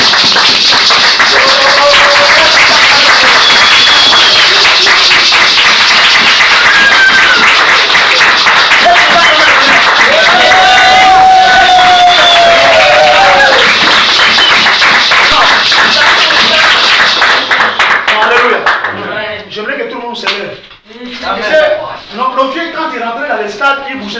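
A church congregation bursts into sustained applause and clapping during a French-language Christian worship service, loud and dense for most of the stretch, then thinning into scattered claps and voices at the end.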